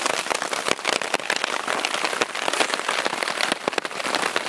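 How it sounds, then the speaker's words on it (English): Steady, close rain patters down during a mountain thunderstorm on a solo elk hunt in Idaho, a dense even hiss with scattered sharper drop hits and no thunder standing out. "now it's thundering and raining again."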